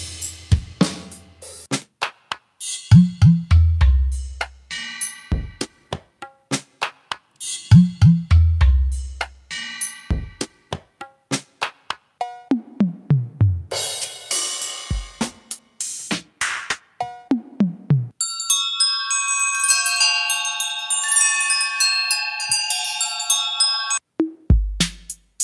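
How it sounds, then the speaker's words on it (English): Default drum kits from the DigiStix drum machine and sampler app by 4Pockets cycle through patterns of punchy electronic kicks, snares and hats, shifting to brighter tonal synthetic hits partway through, with no speech. "These are our default drum kits here."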